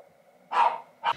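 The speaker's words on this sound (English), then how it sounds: "My dog barking" A dog gives two short, loud barks close by, the first longer and the second clipped, with a quiet room tone between them.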